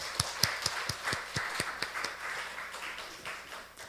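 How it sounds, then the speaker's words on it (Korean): A church congregation claps together in a steady, even rhythm of sharp beats that fade slightly toward the end. "박수로서 하나님께 영광 드리겠습니다"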